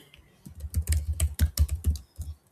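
Rapid, uneven clatter of a computer keyboard as someone types JavaScript code, bursts of close, crisp keystrokes with brief pauses, no voice.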